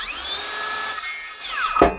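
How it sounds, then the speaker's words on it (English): Circular saw whining close by for about two seconds as it trims knobs off a wooden walking stick, ending in a brief harsh bite into the wood. "So I just use a circular saw to cut off the little knobs."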